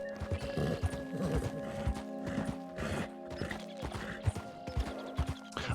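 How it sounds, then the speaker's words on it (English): Horse hooves clip-clop over a steady game-world backdrop in Red Dead Redemption 2, close and rhythmic, with a whinny among the repeated steps and faint mechanical clicks. "calm the horse."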